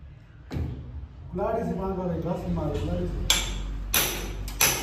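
An axe swung like a hammer against a wall at a building site rings out in a few sharp, bright metallic strikes near the end, coming in after a stretch of close talking.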